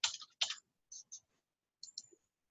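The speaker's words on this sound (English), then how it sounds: "I'm going to click there and click copy" Several crisp computer mouse clicks while working in a spreadsheet, arriving in two quick pairs separated by short pauses, faint and close with no talk.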